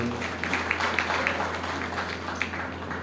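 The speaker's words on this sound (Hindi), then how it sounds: "अच्छा उनकी ताली बजाओ भाई" A seated audience at a spiritual talk claps together in a steady, even patter that lasts throughout, with a low electrical hum beneath it.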